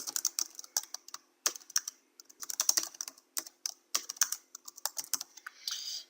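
Close computer keyboard typing as a category description is entered, with quick irregular bursts of keystrokes separated by short pauses and no voices.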